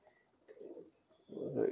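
Kamagar and Dubwale pigeons coo in soft, low murmuring bursts, one brief phrase followed by a louder, fuller stretch, close by and quiet, with faint background noise.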